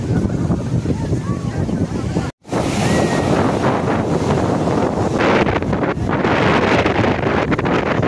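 Sea waves wash in at Juhu beach in Mumbai as a loud, continuous surf roar mixed with wind buffeting the microphone, broken by a short cut partway through.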